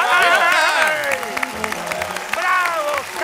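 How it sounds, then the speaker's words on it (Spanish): Studio audience applause with cheering on a Spanish-language variety program, brief bursts of clapping mixed with loud singing or shouted voices over it, close and energetic. "Te mando ¡un aplauso!"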